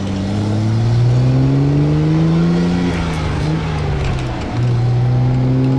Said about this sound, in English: Wonderful Healey 6-cylinder sound.